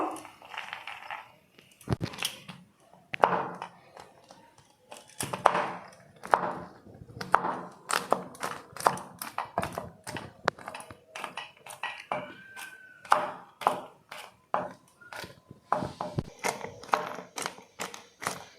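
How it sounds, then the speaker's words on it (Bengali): Nuts, including almonds, being chopped into small pieces with a knife on a board, giving a quick run of sharp, irregular tapping chops, close and fairly clear. "বাদামগুলো এইভাবে ঠিক ছোট ছোট টুকরো করে কেটে নিচ্ছি"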